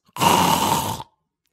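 A man imitates mouth snoring with one rough, rattling breath of under a second, loud and close, followed by silence.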